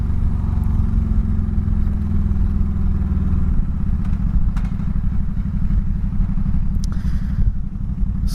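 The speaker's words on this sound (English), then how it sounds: "I'm gonna just get on it full throttle." A 2004 Honda Sabre 1100 motorcycle pulls away at full throttle, its deep, loud engine pulsing in a steady rumble that climbs as it accelerates, with light wind and clatter over the close engine note.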